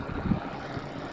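A 140mm PWM computer case fan runs at 60% speed with a slight rattle, giving a faint, steady airy whoosh with a soft low hum underneath.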